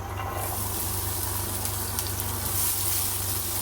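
Finely chopped onions and cumin seeds sizzle steadily in hot oil in a pan, a close, continuous crackling fry with faint stirring.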